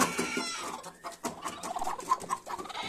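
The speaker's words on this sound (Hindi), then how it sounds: "ये मुर्गी जो आप देख रहे हैं ये मुर्गी है" A broody Aseel hen clucks in low, irregular bursts close by, with soft rustling in between.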